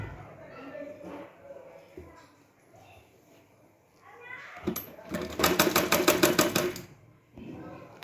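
A sewing machine stitching a blouse sleeve runs in a quick, even burst of rapid needle clatter for about two seconds, preceded and followed by quiet handling noises and someone talking.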